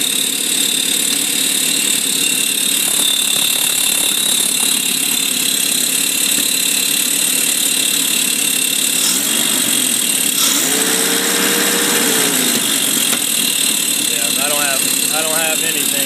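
A 1F engine in a 1973 Toyota FJ40 Land Cruiser runs for the first time, a steady loud engine drone throughout with a brief surge near the end, mixed with rattly mechanical and tool-like noise.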